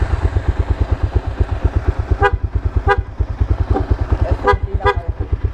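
A vehicle horn honks several times in short blasts over a loud, rhythmic engine throb, with no talking.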